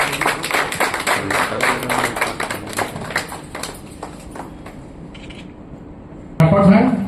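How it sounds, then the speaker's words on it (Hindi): Audience clapping at a ceremony honouring teachers: a burst of many hands that thins into scattered, individual claps and fades, before a voice cuts in at the end. "तालियां बजाइए भाई।"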